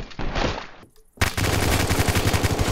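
Automatic gunfire in the online survival shooter Apocalypse Rising 2, loud sustained bursts of rapid shots before and after a brief lull.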